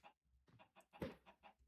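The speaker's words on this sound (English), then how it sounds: "That's enough chickens for now." Minecraft chickens cluck in a quick series of short, separate calls with one louder squawk near the middle, fairly close and on their own with no talking.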